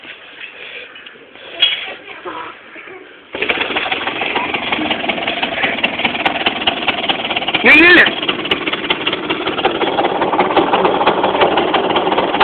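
A scooter engine starts up and idles steadily with a low, continuous rumble, with people talking nearby before and over it.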